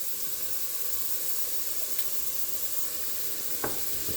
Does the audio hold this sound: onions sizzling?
yes